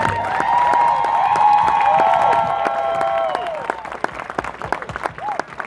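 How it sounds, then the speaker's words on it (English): Audience at an outdoor charity walk for a cure breaking into loud, sustained applause with some cheering, dense clapping that holds for several seconds and then thins out into scattered claps. "Une bonne main d'applaudissement, s'il vous plaît."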